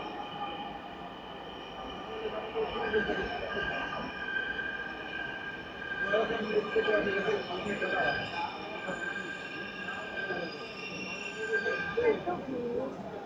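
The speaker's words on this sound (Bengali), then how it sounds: "আমাদের ট্রেন এসে গেছে, আমরা এটাতে উঠেই যাত্রা করব।" Dhaka metro rail train arriving at a station, a rising rumble of wheels and a sustained high whine of braking and squeal, with people talking nearby throughout.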